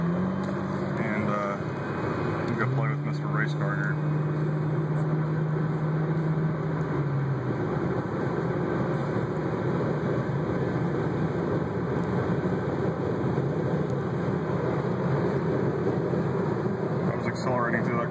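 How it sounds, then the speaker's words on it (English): Ford Focus cruising at about 70 mph while accelerating through a corner, heard from inside the cabin as a steady, loud broadband road and engine drone, with a faint tonal whine in the first few seconds. "I was accelerating through that corner the whole time, doing 70."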